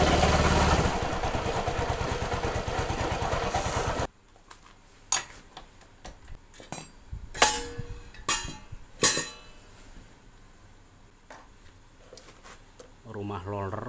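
A Suzuki Nex II scooter engine, likely once run out of oil, runs with a rough, knocking clatter as if the connecting rod is worn; a steady idle gives way to irregular knocks and revving bursts, close up.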